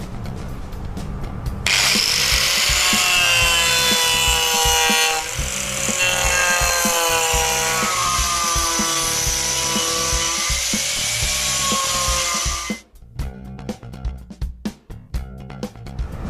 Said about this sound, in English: You'll find that the Arbortech TURBOPlane is perfect for doing freehand beveling or